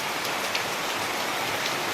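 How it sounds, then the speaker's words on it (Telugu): Steady rain falling outdoors, a dense continuous hiss of drops on surfaces at even loudness throughout, with no voices. "వాన చూడండి ఎలాగ వస్తుందో"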